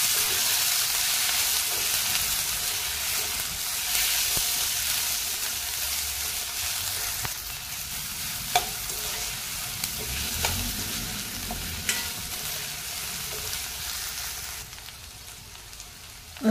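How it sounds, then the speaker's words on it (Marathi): Roasted cluster beans are stir-fried in a pan for a potato-and-gavar dish, giving a soft continuous sizzle with occasional scrapes and light clicks of a spoon against the pan. "भाजलेली गवार घालते आणि 2 मिनिटं हे सगळं परतून घ्यायचं।"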